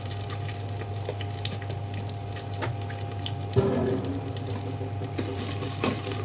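Kerala-style chana curry masala frying in a pan with green chilies and curry leaves, turmeric, chili and coriander powders stirred in. A steady, close sizzle runs throughout, broken by a few soft stirring knocks, with no talking.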